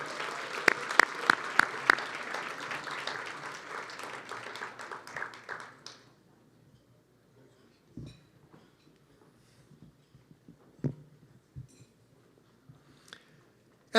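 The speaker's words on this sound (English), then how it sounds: "One more round of applause for honoree Farah Moswala." Audience applause for an honoree at a suburban diversity celebration, a burst of clapping with a few louder claps that dies away after six seconds, leaving quiet with scattered faint taps.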